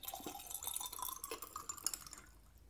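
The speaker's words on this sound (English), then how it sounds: "let's pour in the water" Water poured into a glass beaker in a classroom experiment, a close, faint trickling and splashing with glassy ringing that fades out after a couple of seconds.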